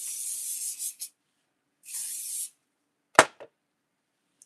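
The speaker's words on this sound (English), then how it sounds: "you go in with your holding spray" Hair holding spray hissing out of a can in two short close bursts, the first slightly longer, followed by a brief sharp tap and a smaller knock as the can is set down.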